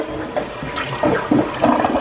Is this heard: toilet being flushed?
yes